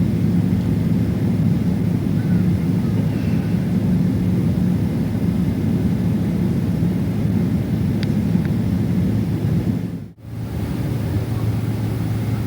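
Airliner engines hum steadily and loud in a low, continuous rumble before take-off on a holiday flight to Turkey, with a brief dropout near the end.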